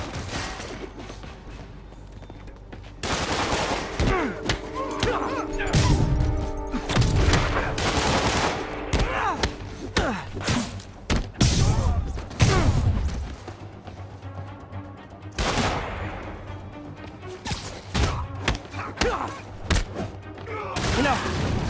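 Enemies fire guns in the Marvel's Spider-Man video game, bursts of rapid gunfire and sharp shots cracking out in clusters, loud and close, mixed with impacts and brief voices.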